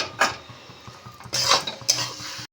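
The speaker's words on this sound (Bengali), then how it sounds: "সব কিছু ভালো করে মিশিয়ে নিয়েছি, এবারে এটাকে ভালো করে ভাজবো।" Eggplant, tomato and egg being stirred together in a frying pan, a spatula scraping and clinking against the metal in a few irregular strokes, close and moderately loud with no talking.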